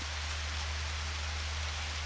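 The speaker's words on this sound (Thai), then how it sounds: "ฝนตกทั้งวันเลย" Rain falls in the PlayStation farming game Harvest Moon Back to Nature, a steady, even hiss of rainfall with a low hum beneath it and no voices.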